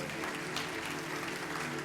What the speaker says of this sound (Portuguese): Dê um aplauso ao Senhor com alegria